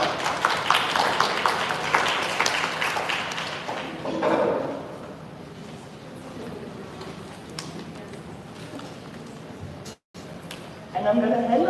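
Audience applause greeting a speaker at a youth side event on finance and intergenerational equity: a dense burst of clapping for about four seconds, then fading into quieter room noise.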